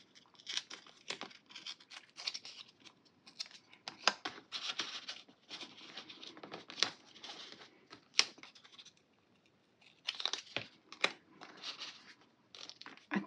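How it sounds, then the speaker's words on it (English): Parchment paper being handled for a junk journal spread: soft crinkles and rustles in close, quiet bursts with brief pauses, no talk. "I want to use a little bit of this parchment paper"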